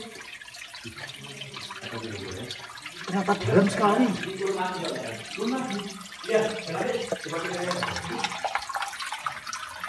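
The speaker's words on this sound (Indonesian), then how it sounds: "Ini sungainya gemericik seperti air terjun." An underground river in a cave at Tulungagung, flowing and babbling like a small waterfall, a steady rushing wash heard beneath people talking nearby.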